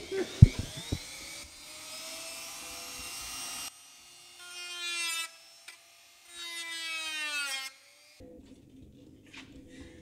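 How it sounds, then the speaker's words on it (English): A high-pitched power tool whines in intermittent bursts while trimming a plastic radiator fan shroud on a turbocharged Ford Mustang, with a few sharp knocks at the start. "Ended up having to trim out some of the radiator shroud here, fan shroud"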